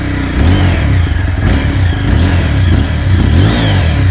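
A TVS Apache RTR 160 4V motorcycle engine revs loudly and steadily up close, a continuous throaty roar with rising and falling surges and no pauses.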